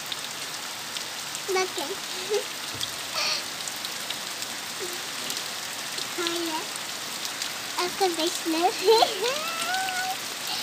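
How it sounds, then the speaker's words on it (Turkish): Steady rain patters and hisses on surfaces in the village of Gümüşdamla, Aksek, Antalya. The rain continues throughout, with someone speaking intermittently over it at close range. "Yağmura bakın arkadaşlar."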